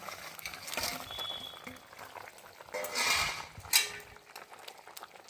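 A winter vegetable curry with potatoes and bata fish simmers in a pot, giving a faint, soft bubbling with a few light clinks of utensils, quiet throughout.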